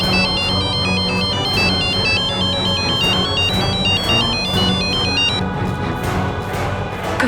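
A phone ringtone repeats a bright electronic melody over and over, loud and close, continuing without being answered.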